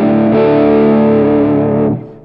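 A heavily distorted electric guitar chord through a JOYO cab simulator rings out thick and saturated, a second strum follows, then it cuts off sharply near the end.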